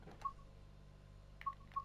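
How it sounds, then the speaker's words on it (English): A mobile phone notification sounding as short electronic tones, one beep followed after a pause by two more, faint over a low steady hum. "Oh, my phone's not on silent."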